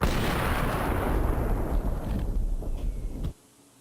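HE grenade blasts in the Counter-Strike video game, a loud, booming roll of explosions that decays over about three seconds and then cuts off abruptly to near silence.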